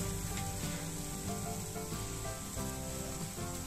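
Whole spices and masala sizzling in hot oil for a restaurant-style kaju (cashew) curry, a steady dense frying hiss that runs unbroken and close, with faint stirring beneath and no talk.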